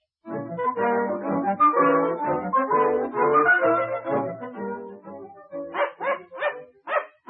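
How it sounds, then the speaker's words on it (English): A dog barks loudly and continuously in a rapid string of close yaps, ending with a few separate sharper barks. "Oh, dear, they would have a dog."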